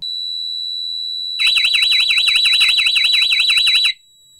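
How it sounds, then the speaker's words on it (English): A loud electronic watch-keeping alarm on a sailboat, an Aqualarm Last Watch II at its second stage, sounds a piercing warbling siren that sweeps up and down steadily for about two and a half seconds, then cuts off abruptly. "That second alarm is so loud, it's almost unbearable."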